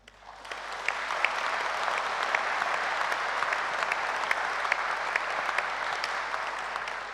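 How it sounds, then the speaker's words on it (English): A graduation crowd at Edinburgh Napier University breaks into a sustained round of applause, a dense wash of clapping that swells in within the first second and holds evenly throughout. "Let's offer a heartfelt round of applause to all of you"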